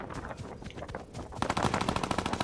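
Fortnite gunfire from a Trios match in Chapter 6, Season 2: scattered shots give way to a loud, rapid automatic burst in the second half, with fast repeated cracks layered over game noise and no speech.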